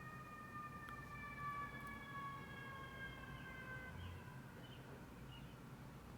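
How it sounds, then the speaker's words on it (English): A real ambulance or emergency siren heard faintly in the distance, with steady wailing harmonic tones that slowly fall in pitch and fade out over a quiet background hum. "That was the siren in Silent Hill,"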